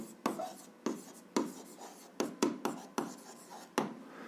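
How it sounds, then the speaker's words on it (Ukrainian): A pen writes an answer to an algebra exercise on paper, giving a series of short scratchy strokes with brief pauses between them, close and clear, with no talking. "записуємо відповідь, пишемо відповідь"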